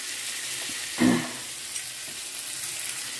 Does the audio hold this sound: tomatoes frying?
yes